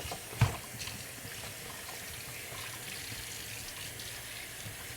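A kitchen tap runs steadily at close range, a continuous watery rush with one brief clunk near the start, while soup and beef in white sauce are being cooked.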